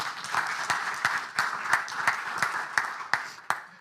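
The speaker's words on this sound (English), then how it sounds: "So give him a warm round of applause." A seminar audience gives a warm round of applause, steady, even clapping from a crowd that continues for a few seconds without speech.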